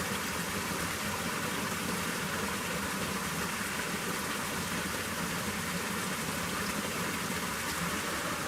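Forest creek water in Bankhead National Forest, Alabama, flowing with a steady, even broadband rush that stays constant and fairly close, with no talk over it.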